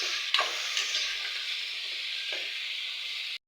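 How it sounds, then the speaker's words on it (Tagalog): Pork sizzles steadily as it is sautéed in a pan for a black bean dish, a continuous close frying hiss with a couple of brief stirring clatters and no talking. "Lagyan na natin yung baboy. Gigisahin muna natin ito."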